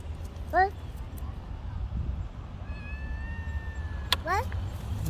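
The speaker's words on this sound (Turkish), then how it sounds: "Kedi çıktı. Ne yapacak kedi?" A cat out in the grass meows twice, short, rising calls spaced a few seconds apart, close by over a low outdoor rumble while a person talks nearby.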